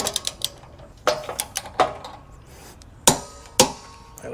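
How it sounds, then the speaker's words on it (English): A small Tekton torque wrench tightening a weight distribution hitch to 90 foot-pounds gives sharp metallic clicks and clanks, some in quick clusters and others single and louder, separated by brief pauses, with no talking. "I don't know how accurate this little Tecton torque wrench is, but it's all I got."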